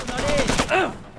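Gunfire in the Xbox 360 shooter Shellshock 2: Blood Trails, a short dense burst of shots over about a second.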